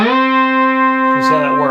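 A 1972 Minimoog synthesizer holds a loud, steady buzzy note. Near the end the pitch wobbles and bends as the pitch wheel is worked, and the note keeps sounding throughout with no talking.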